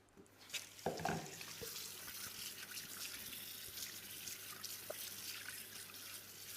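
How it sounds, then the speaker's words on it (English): Tap water runs into a sink while hands are washed, a quiet continuous splashing stream with a brief louder splash near the start. "I'll just wash my hands"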